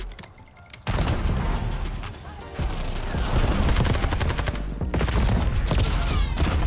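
Rapid-fire bursts from an ABR A1 rifle in the video game Black Ops 6 crack out loudly in dense, repeated volleys, broken by brief pauses between strings of shots.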